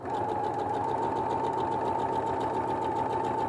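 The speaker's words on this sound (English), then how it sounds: "Now with that stay stitching done, let's go ahead and reattach the waistband." A sewing machine runs steadily, stay stitching along the fabric of a pair of shorts at a waistband, its close, continuous mechanical whir holding for several seconds with no voices.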